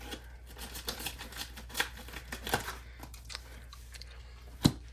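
Package for a 13-inch M1 MacBook Pro being cut open, with scattered soft scraping and crinkling and one sharp snip near the end, close and fairly quiet against a steady low hum.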